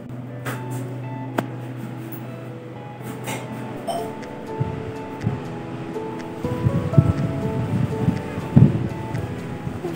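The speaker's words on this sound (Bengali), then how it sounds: "খুব সুন্দর হাওয়া হচ্ছে" A steady sea breeze blows along Puri beach in Odisha, a continuous low windy roar with surf-like rushing that swells slightly louder toward the end.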